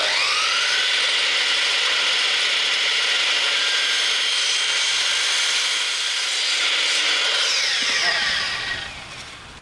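A saw blade slices through quarter-round wood trim, a loud steady whine lasting several seconds up close before it winds down at the end.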